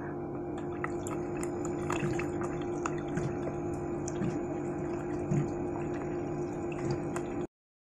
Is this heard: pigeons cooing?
no